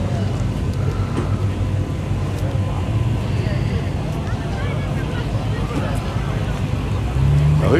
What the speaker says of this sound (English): So here comes the orange Miata.